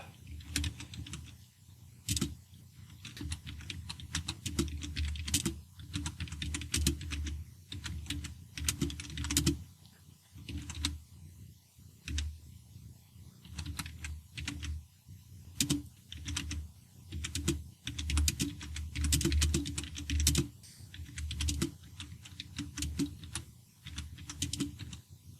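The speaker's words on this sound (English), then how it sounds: "Okay, and I should be able to start typing now." Steady computer keyboard typing, close and fairly loud, with clusters of quick keystrokes and brief pauses while text is entered into an image editor; no talking.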